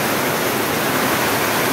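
Steady, dense broadband hiss of heavy typhoon rain pouring down, loud and continuous with no pauses or voices.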